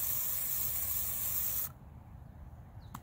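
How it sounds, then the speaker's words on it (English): Dr. Scholl's foot spray is sprayed from an aerosol can onto the face of a golf club: one loud, continuous hiss for about a second and a half, then it cuts off abruptly, leaving quiet room tone and a faint click. "I've got some Dr. Scholl's foot spray, and I'm just gonna spray the face."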